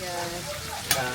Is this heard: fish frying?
yes